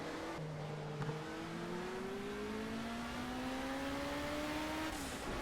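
Race car engine in the racing game Project Cars, driven in a high gear with a feathered throttle: a steady droning engine note that climbs slowly in pitch with a brief shift, continuous and close.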